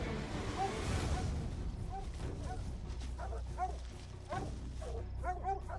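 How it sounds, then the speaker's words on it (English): Hunting dogs bay and bark repeatedly, moderately distant in rough mountain terrain, as they chase a black bear; the barks come in scattered bursts over a steady outdoor background rumble. "The dogs are trained to push their prey into a tree and bark nonstop until Kid and Harry catch up."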